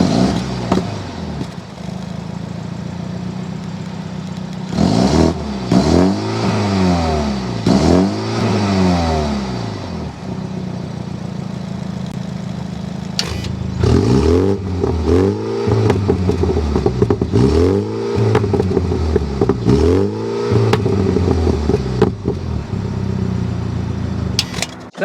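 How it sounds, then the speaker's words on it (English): A 2023 MINI Clubman John Cooper Works ALL4 with a twin-power turbo engine revs repeatedly, its exhaust rising and falling in loud, close bursts over a steady idle. "Let's go inside, start it up so you can hear that exhaust now."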